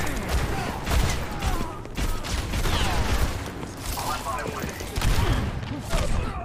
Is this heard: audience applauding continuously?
no